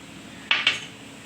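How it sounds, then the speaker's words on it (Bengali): A whisk or spoon beats yogurt in a bowl for a vegetarian soybean curry, giving two quick metallic clinks against the bowl that stand out briefly over a quiet kitchen background. "তো এখানে আমি দিয়ে দিচ্ছি ফেটিয়ে, দইটা ফেটিয়ে নিচ্ছি, দিয়ে দিচ্ছি দই।"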